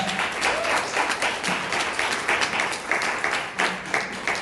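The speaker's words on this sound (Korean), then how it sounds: "우리 이준 선생님 모실 때 큰 박수 부탁드리겠습니다" An audience applauds to welcome a speaker at a training seminar, steady clapping from many hands at moderate loudness that runs the whole time without pause, with no speech over it.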